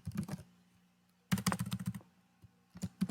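Computer keyboard typing while code is written in a text editor: rapid bursts of close, crisp keystrokes, a short flurry, a pause, a longer run, then a final brief burst, no voices.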